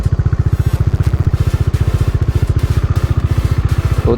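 A Bajaj Dominar 400 motorcycle, a 2022 model, idles with a fast, even, loud thumping pulse from the single-cylinder engine, close to the listener and steady throughout, with no talking.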